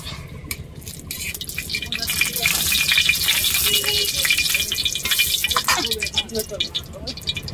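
A dried red chilli frying in oil gives a steady, close sizzling hiss that swells and crackles for several seconds, with scattered faint clinks.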